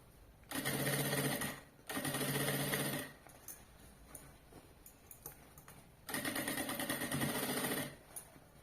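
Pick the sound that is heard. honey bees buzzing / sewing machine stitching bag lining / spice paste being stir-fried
sewing machine stitching bag lining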